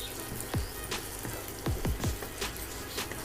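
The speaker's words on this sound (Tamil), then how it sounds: "இப்போ இது ரோஸ்ட் ஆகட்டும் நெய்யில்." Finely chopped onions frying in ghee for a ghee roast chicken chukka, giving a quiet, crackling sizzle with scattered pops and light stirring.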